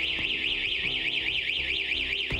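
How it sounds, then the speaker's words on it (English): A warbling electronic alarm blares steadily in a car dealership showroom, its siren tone rising and falling continuously, loud and close, with a brief clatter near the end. "an alarm starts blaring"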